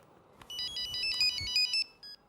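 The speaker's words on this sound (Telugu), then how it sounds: "ఫోన్ రా మామా." A phone ringtone plays in short repeated bursts of bright electronic tones, moderately loud with a faint background hum.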